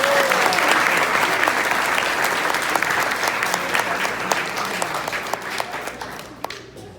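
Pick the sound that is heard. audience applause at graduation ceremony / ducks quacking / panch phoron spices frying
audience applause at graduation ceremony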